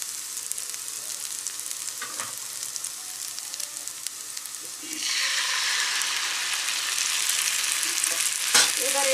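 Mashed papaya paste frying in hot oil with chili for a spicy pickle-style mash, a steady loud sizzle that swells midway as the paste goes in and is stirred.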